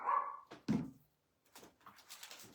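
A dog gives a couple of barks and a whine nearby, followed by fainter, scattered yips and rustling.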